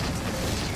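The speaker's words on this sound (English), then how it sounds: "he's just lobbing those explosions" Explosions in an Avatar animated episode make a dense, loud, rumbling blast that fills the short moment without a break, close and heavy, with no voices over it.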